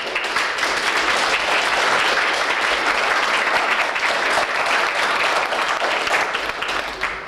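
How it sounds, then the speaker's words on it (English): Wedding guests give a round of applause, a loud, dense burst of many hands clapping together that carries on for about seven seconds before thinning slightly at the close. "we'll give her a round of applause"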